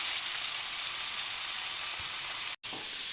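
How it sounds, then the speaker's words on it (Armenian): Chicken meat fries over low heat in a pan, giving a continuous soft sizzle and hiss that runs unbroken apart from one brief cut near the end. "Հավի միսը այսպես հիմա մարմանդ կրակի սիրուն տապակելու ենք"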